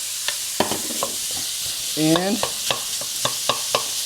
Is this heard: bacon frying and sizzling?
yes